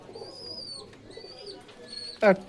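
A single short pigeon coo rises near the end, preceded by quiet background with faint high-pitched tones, at a pigeon sale.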